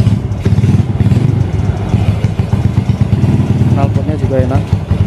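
A Yamaha Vega ZR motorcycle, bored up to 135cc with a Daytona throttle, runs loudly and close, its engine pulsing in a rough, rapid beat with clatter, while a voice talks over it.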